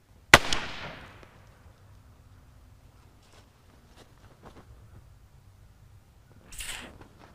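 A revolver loaded with a blank cartridge fires one sharp, loud crack near the start, and the echo fades out. Quiet shuffling follows, and a soft hiss or rustle comes near the end.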